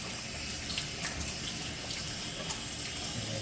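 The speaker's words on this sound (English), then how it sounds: "Let me rinse up." Water runs steadily from a kitchen tap during a quick rinse between pizza-topping steps, a continuous close splashing hiss with small spatters and no talking.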